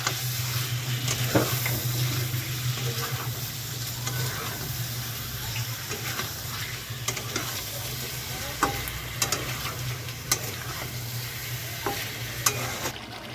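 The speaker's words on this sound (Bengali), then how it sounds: "এবার ভালোভাবে নাড়াচাড়া করে দেবো মশলাটার সাথে।" Chicken pieces with spices and potatoes for a chicken curry are stirred in a pan over a steady sizzle, the spoon scraping and clinking against the metal in irregular bursts, close and fairly loud, with no talking.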